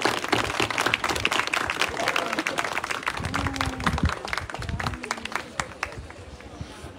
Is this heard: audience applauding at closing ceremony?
yes